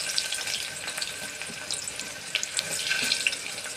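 Chopped onion sizzles in hot oil in a pan, a bright, steady crackling hiss that rises slightly toward the end.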